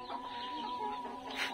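Hens in hot summer weather cluck softly in a brief, close burst, with a faint steady hum underneath.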